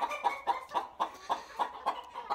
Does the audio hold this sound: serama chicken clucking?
yes